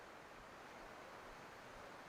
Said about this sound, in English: I can hear the waterfall just a little bit up the driveway there.